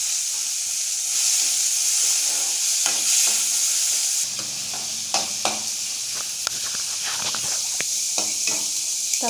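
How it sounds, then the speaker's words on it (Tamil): Chopped tomato sautéing in hot oil in a pan, a steady bright sizzle running throughout, with a spoon stirring and scraping in quick irregular knocks during the second half. "தக்காளியை நல்லா வதக்கிக்கோங்க."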